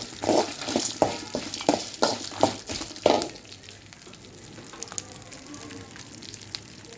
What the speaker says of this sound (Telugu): 2 టేబుల్ స్పూన్లు మినపప్పు, 2 టేబుల్ స్పూన్లు పచ్చనపప్పు వేస్తాను. కొంచెం మంచి వాసన వచ్చేంత వరకు ఫ్రై చేసుకున్నాము